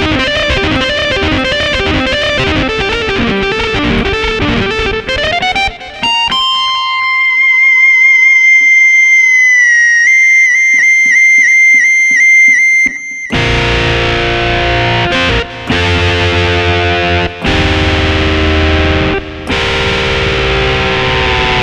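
Yamaha MOX synthesizer playing a custom riff through heavy distortion and effects: choppy chords, then sustained high tones, then a loud dense distorted section with brief gaps, played alone and loud.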